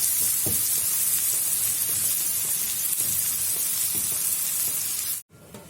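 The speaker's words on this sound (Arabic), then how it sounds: "نقلب بقى السمنه مع الزيت مع البصله لغايه كده بس تبقى ايه صفرة" Onion frying in ghee and oil fills the pan with a close, continuous sizzling hiss and faint stirring scrapes, then cuts off sharply near the end.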